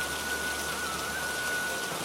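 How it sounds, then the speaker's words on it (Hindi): Heavy cartoon rain pours down in a steady, dense hiss, even and continuous throughout with no voices or thunder. "इतनी भारी बारिश हो रही है।"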